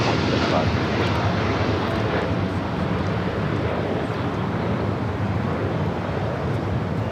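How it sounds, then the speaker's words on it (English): A Boeing 747-8 cargo freighter at LAX takes off with a steady, heavy jet engine roar, loud and continuous, with faint radio chatter in the background. "This is DHL, operated by Polar Air Cargo 789, taking off to Seoul on a 747-8 freighter."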